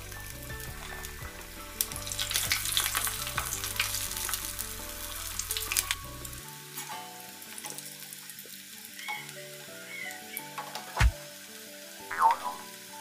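Pocket-style Indo-Chinese samosas frying in hot oil, with a steady close sizzle and bubbling that fades partway through, followed by quieter crackles and a few sharp clinks from a utensil.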